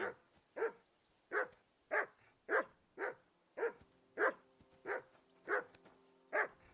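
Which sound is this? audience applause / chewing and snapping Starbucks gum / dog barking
dog barking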